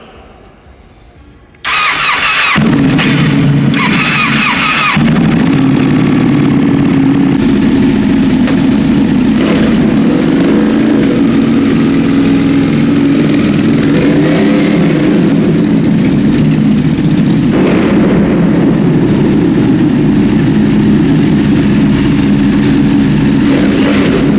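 A Ducati 959 Panigale superbike engine, rebuilt after crash damage, cranks and fires up, then runs loud and close with a deep rumbling idle and occasional revving swells.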